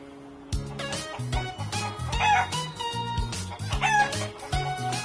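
A chicken clucks and crows over a bouncy tune, its calls loud and close in a short burst.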